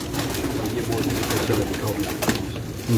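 A pigeon coos on a rooftop loft, a low steady murmur layered over rustling background noise, with a faint voice briefly heard near the end.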